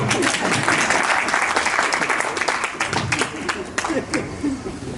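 Audience at a gathering honouring Baba Hansa Singh breaks into loud, dense applause, many hands clapping close and continuously for several seconds, with crowd voices mixed in.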